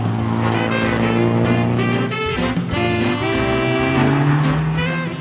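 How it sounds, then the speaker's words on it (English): Austin Healey frog-eyed Sprite sports car driving with its engine revving and changing pitch through gear shifts, loud and close, with a busy layered engine note throughout. "What John here had come to see was the Austin Healey frog-eyed Sprite"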